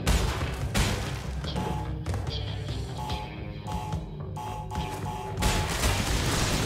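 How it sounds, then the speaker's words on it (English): Explosions boom and crash in rapid succession throughout a level of the video game Crash Bandicoot N. Sane Trilogy, a dense, loud barrage of blasts and thuds layered over game sound. "just because the explosions are hard to get through."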